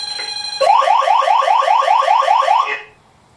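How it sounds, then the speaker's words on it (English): A loud electronic siren from a security alarm panel warbles rapidly in a fast repeating pulse for about two seconds, then cuts off abruptly into quiet. "Now I've silenced the alarm."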